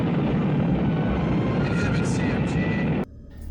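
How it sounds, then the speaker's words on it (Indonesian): A spaceship engine starts up in an alien film, a loud, dense roaring rumble that holds steady for about three seconds, then cuts off abruptly to near quiet. "mesin pesawat mulai diaktifkan kembali dan mereka pun pergi meninggalkan planet asing"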